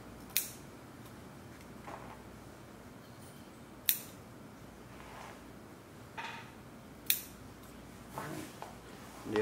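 Scissors snip through shirt fabric, cutting small notches along a curved seam, with a few sharp, distinct cuts spaced irregularly against a quiet room background.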